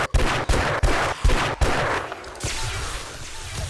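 Gunshots in the 7 Days to Die video game, five or six sharp, loud, evenly spaced shots fired in quick succession, then a fading echoing rumble of noise afterward.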